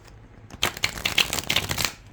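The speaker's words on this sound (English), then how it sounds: "let me show you how these shuffle like a" A deck of Earth Magick Tarot cards is shuffled up close with a quick burst of crisp, papery riffling flutters, starting after a short quiet moment and continuing steadily to the end with no talking.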